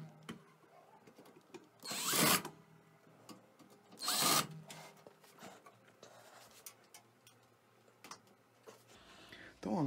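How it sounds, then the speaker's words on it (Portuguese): Electric screwdriver driving screws into a PC power supply inside a computer case, two short loud whirring bursts a couple of seconds apart, up close, with quiet handling and clicks between them. "eu vou usar a parafusadeira e vou apertar esses parafusos"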